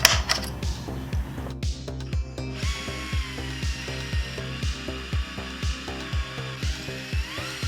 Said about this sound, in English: I'm going to punch it and drill it